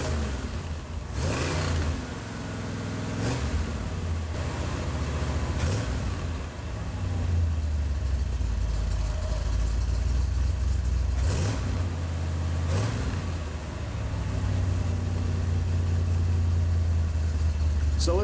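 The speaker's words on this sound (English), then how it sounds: "let's do the little rev up now" Modified 1993 Chevrolet Corvette engine idling with a deep rumble, then revved in several sharp blips that rise and fall, close to the mic, with a steady low exhaust drone between revs.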